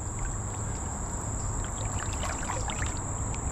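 Water sloshes and trickles steadily as someone wades through a cold creek beside a beaver dam, close and continuous, with a faint high whine over the top and no talking.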